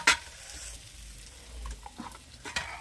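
Sea fish frying in hot oil gives a soft, low sizzle with a few faint clinks and scrapes of a utensil in the pan, quiet and close, no voices.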